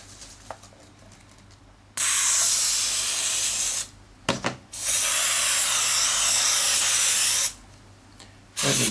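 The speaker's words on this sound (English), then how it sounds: "I use standard spray adhesive" Standard spray adhesive hissing from an aerosol can in two long, steady, loud bursts separated by a brief pause with light handling noise, close by and with no talking.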